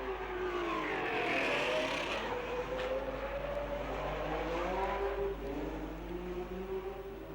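Racing cars at the Monaco Grand Prix, the engines roaring past one after another, loud swelling and falling whines with pitch sweeps as they approach and recede, continuous over the whole stretch.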